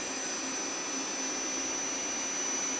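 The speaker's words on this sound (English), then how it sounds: "Then I'll bring it back in reverse. And bring it up to speed again." The spindle of a Nakamura Slant 1 lathe runs in reverse, giving a steady, faint, high mechanical whine with a constant tone and an even hum beneath it, with no other sounds.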